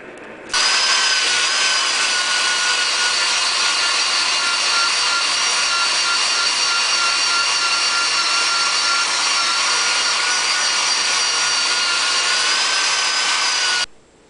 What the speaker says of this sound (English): Then it's buffed with a wire wheel